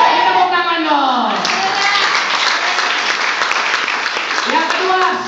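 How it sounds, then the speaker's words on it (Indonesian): A church congregation at a Christmas service claps together in a loud, sustained burst that fills the room, with voices calling out and talking over the applause throughout. "Kita tepuk tangan dong."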